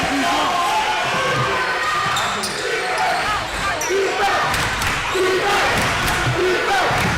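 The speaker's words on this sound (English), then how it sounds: "The Salesian crowd roaring for the defense chant." Crowd at a high school varsity basketball game, Salesian against Cardinal Spellman, roaring a rhythmic defense chant in a gym, with basketball bounces and sneaker squeaks under a commentator's voice.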